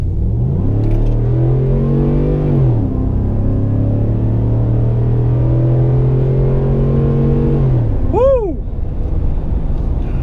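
A Ford F-150 FX2 pickup with a 5.0 Coyote V8 pulls hard on an open road, its engine note climbing loud and close, dropping at a gear change, climbing again, then falling away near the end.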